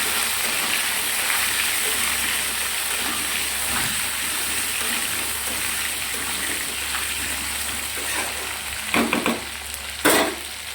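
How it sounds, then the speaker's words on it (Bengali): Vetki fish fries in hot oil until golden red, a steady dense sizzle running loud and unbroken, with two short clatters of a utensil near the end and no voices. "ভালো করে লাল লাল করে কেটে নেব, ভেজে নেব"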